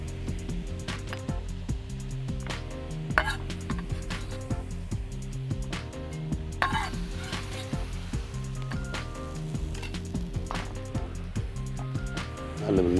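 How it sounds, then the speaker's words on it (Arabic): Mushrooms stirred in a pan, with scattered scrapes and clicks of a utensil over a steady background hum and a low, quiet sizzle. "نقلب المشروم بتاعنا شويه"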